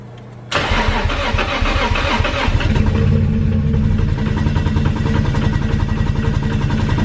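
A Toyota 1JZ engine with a modified fuel rail and its batch-fire injectors switched off cranks and catches about half a second in. It then settles into a loud, steady running note close by.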